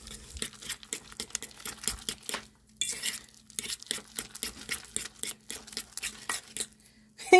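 Eggs beaten with a metal fork in a bowl: rapid, rhythmic clinking and scraping strokes, close and fairly loud, with a brief pause midway and no speech.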